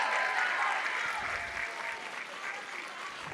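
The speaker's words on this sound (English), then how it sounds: "Keep the applause going." Audience applause at an academic awards ceremony as an honoree walks up, a soft, steady wash of clapping from a distance with cheering voices mixed in throughout.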